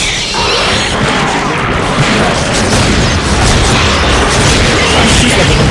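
TNT blasts go off on a bridge in the Darkwatch video game, a loud continuous roar of crashing explosion noise and debris that stays dense and forceful throughout with no pauses.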